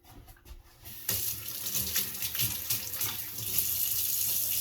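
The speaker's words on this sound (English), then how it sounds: "let me wash my hands just real quick here" Tap water runs steadily into a sink as hands are washed beneath it, a quiet start giving way to a full, close hiss of splashing water that continues to the end.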